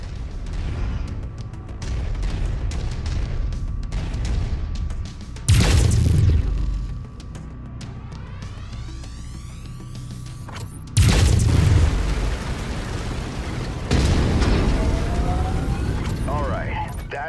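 Mech weapons fire in MechWarrior 5 combat: a few heavy booming bursts around six, twelve and fourteen seconds stand out over steady mechanical rumble, with a voice talking across the clip.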